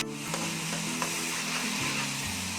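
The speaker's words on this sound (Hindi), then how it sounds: "2 मिनट तक हम इनको भूनेंगे और टमाटरों को मैश करेंगे" Onions and tomatoes frying in a pan while being mashed, a continuous dense sizzle with a low steady hum beneath, close and even in loudness, no voices.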